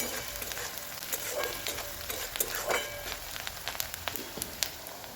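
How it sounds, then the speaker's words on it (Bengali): Onions crackle and sizzle in a pan, a busy hiss full of irregular little pops, fairly quiet and close, with no voices. "পেঁয়াজটাকে ভালো করে কিছুক্ষণ ভেজে নেব"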